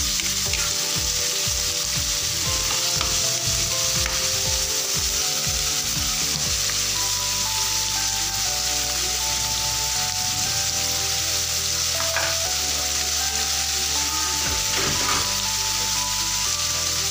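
Pork pieces sauté and brown in a hot pan for pork binagoongan. A steady, close sizzle and crackle runs throughout, with clanks of stirring near the start.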